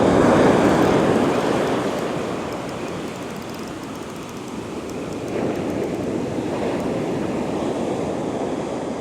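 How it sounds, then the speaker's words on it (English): Strong ocean waves surge and backwash along a shore in rough fishing conditions, a loud continuous rushing roar that swells, eases slightly midway, then builds again. "that surge and backwash is strong"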